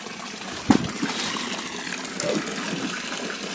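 Excess water trickling and splashing out of a pipe in a steady stream, with a sharp splash or knock early on, close by and fairly loud; no talking.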